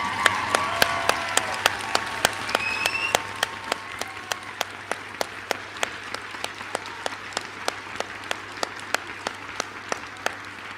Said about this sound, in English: Give them a huge cheer and a round of applause.